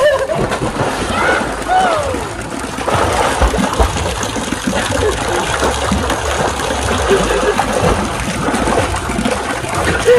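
Cold water splashes and churns continuously up close as people jump in to swim, with sloshing and gushing sounds throughout and faint voices now and then.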